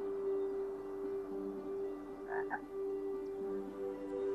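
A frog croaks in the cartoon adventure game Lost in Play. A steady, reedy croaking drone sits over soft ambient background, with a couple of brief higher chirps in the middle.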